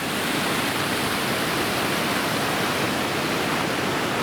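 A waterfall on George Creek roars as a steady, dense, broadband rush, loud and close, with no other sounds over it.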